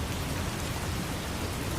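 Steady rain falls in a dense, even hiss with no breaks, close and constant throughout, with no voices.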